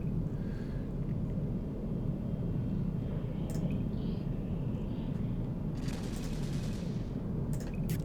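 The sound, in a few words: ships shooting in Eve Online, video game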